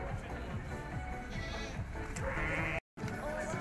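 Sheep bleat repeatedly at a livestock market in Urzhar, several overlapping calls near and far over crowd murmur, with a brief dropout near the end.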